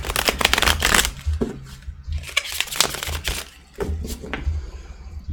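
Tarot cards are shuffled repeatedly up close, crisp riffling bursts with short pauses between them.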